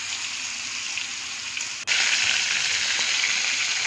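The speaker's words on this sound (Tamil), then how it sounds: "மீடியம் ஃப்ளேமில் வச்சே வறுத்துக்கலாம்" Fish slices fry in oil over a medium flame with a steady, hissing sizzle. It dips briefly near the middle, then returns louder and brighter, close by with no voices.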